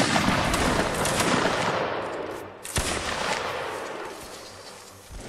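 Reenactors keep up loud gunfire in a ragged run of overlapping cracks and pops that fades, then picks up again with a sharp shot partway through.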